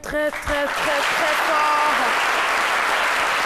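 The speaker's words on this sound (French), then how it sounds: "public de C'est Midi, je vais vous demander d'applaudir très fort" A TV studio audience on a French midday show bursts into applause, steady and loud, rising and holding after a few tonal musical notes at the start.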